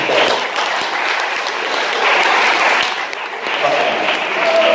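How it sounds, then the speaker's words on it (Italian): A school audience breaks into sustained, loud applause, a steady wash of clapping that holds evenly throughout, with some voices mixed in. "Se siete d'accordo fate un applauso."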